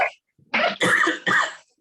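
A person coughs in three harsh, close bursts, separated by short pauses, in a quiet indoor room during a meeting over paperwork.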